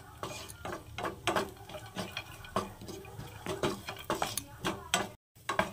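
Semolina is dry-roasted lightly in a pan for laddu, with a spoon scraping and stirring in repeated brisk strokes. The sound is close and busy, with a soft sizzle underneath.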